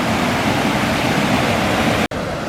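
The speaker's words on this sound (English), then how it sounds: "It's really pounding down this water." High water roars down a big pipe under a lake in Queens Park, a dense, steady rushing torrent heard close and loud without pause, then cut off abruptly near the end.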